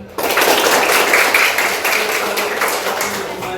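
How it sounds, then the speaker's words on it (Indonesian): A burst of group clapping, dense and continuous, starting abruptly and fading slightly toward the end. "Mulai tepuk tangan."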